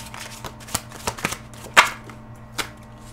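Tarot cards shuffled and drawn by hand at a reading table: a run of crisp, close riffles and slaps with a sharper snap near the middle, loud and clear with no talking over them.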